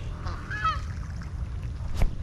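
A goose honks on a flooded backyard pond, one clear nasal honk early on and a shorter call near the end, moderately close over faint water and outdoor ambience.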